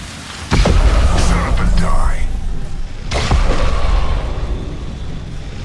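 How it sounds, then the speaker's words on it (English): A thermite grenade bursts in Apex Legends: two loud, heavy booms arrive a few seconds apart, each trailing into a rumbling roar that fills the rest of the moment. "Throwing thermite grenade."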